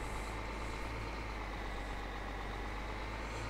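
A Toyota forklift in Farming Simulator 15 driving around and raising its load, a steady, loud droning engine with a constant low rumble and no pauses.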